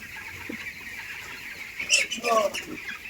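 19-day-old poultry birds cluck and squawk nearby in short bursts inside a poultry shed, with a steady farm-shed hum in the background.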